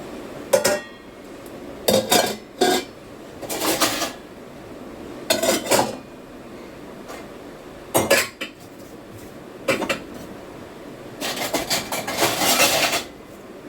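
Washed metal dishes and pots clank and clatter in irregular bursts as they are set down one after another on a rack, with brief pauses between the clinks.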